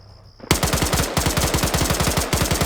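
Video game automatic gunfire rattles in a fast, loud, continuous burst of rapid shots after a brief quiet start, close and dominant.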